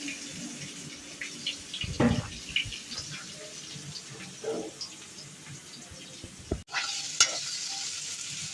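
Pieces of shol (snakehead) fish frying in oil, a soft continuous sizzle with stirring scrapes and clatter, plus a sharp knock partway through.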